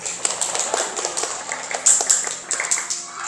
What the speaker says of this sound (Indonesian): Jadi kita tepuk tangan untuk kelompok 1, 2, dan 3